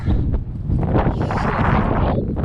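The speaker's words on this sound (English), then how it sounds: "The wind has picked up and the clouds are getting lower." Strong wind on a snowy spring slope of Mt. Elbert below the false summit, roaring and buffeting the microphone in a loud continuous rush with gusty surges and no talking.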